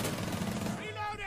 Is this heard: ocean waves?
no